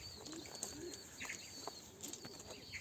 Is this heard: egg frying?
no